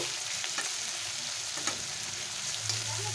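Chopped onions fry in a pan for a Bengali lote fish jhuri, giving a steady close sizzle with a few soft spoon scrapes and clicks. No voices are heard.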